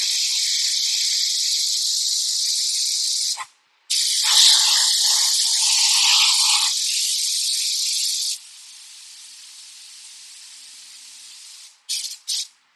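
Steady high-pitched hissing spray in long bursts, with a brief gap, one louder stretch, then a quieter sustained hiss and two short final puffs.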